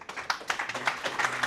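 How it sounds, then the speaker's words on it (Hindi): Scattered hand claps from a small school gathering ring out for a schoolgirl, a brief uneven burst of applause at close range with no talking. "जोरदार तालियां हो जाए इस बच्ची के लिए प्लीज"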